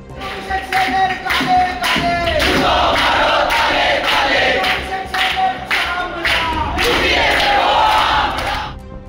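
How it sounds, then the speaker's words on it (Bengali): A crowd of protesting junior doctors chants slogans in loud, rhythmic unison inside a hospital building, their voices rising and falling together with scattered claps for the whole stretch. "প্ল্যাটিনাম জুবিলি বিল্ডিংয়ে বসে স্লোগান দিতে শুরু করেন প্রতিবাদী জুনিয়র ডাক্তাররা"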